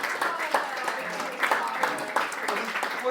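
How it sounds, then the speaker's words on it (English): Wedding guests applaud after the speeches, sustained clapping from a room full of people with voices talking and calling out over it. "Round of applause, round of applause,"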